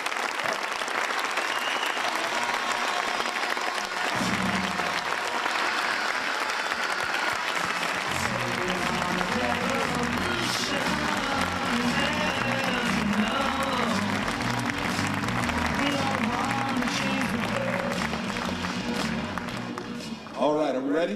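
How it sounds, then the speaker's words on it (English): Sustained audience applause greets Governor Arnold Schwarzenegger at a public forum with Mayor Johnson and Thomas Friedman, a dense, steady roar of clapping lasting about twenty seconds, with music or voices mixed underneath partway through. "let's give a round of applause to Governor Arnold Schwarzenegger"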